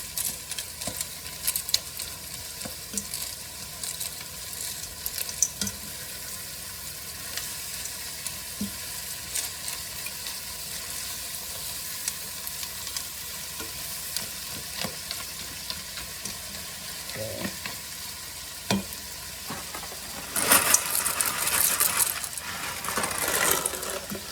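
Ziti pasta being stirred into cooked meat in a pan on the stove makes soft scraping and sizzling, with scattered light clinks and taps over a quiet, steady background.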